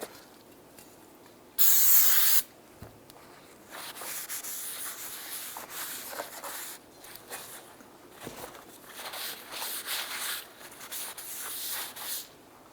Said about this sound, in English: Be sure to clean your brake rotors with a solvent to get any shipping oils off of the rotor itself.